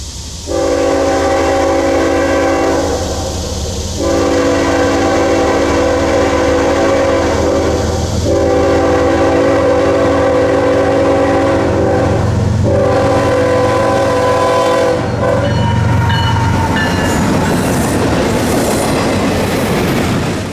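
A loud southbound freight train, bound for Miami via the FEC, sounds repeated long horn blasts while passing close by, with the rumble and clatter of rail cars continuing after the horn stops.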